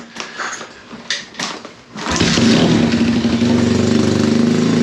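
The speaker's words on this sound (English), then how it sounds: "She's alive." A dirt bike engine fires up after a DIY gas tank repair, with a few short sputters giving way to a steady, loud running idle that carries on without talk.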